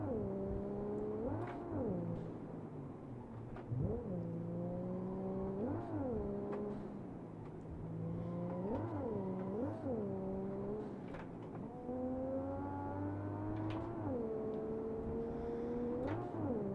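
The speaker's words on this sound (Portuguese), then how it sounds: "dá pra ouvir o barulho de dentro do carro, dá pra ouvir melhor a turbina" Engine drone of a turbocharged car in an open-world driving simulator game, heard from the cabin: a steady, moderately loud hum whose pitch rises and falls through repeated gear shifts.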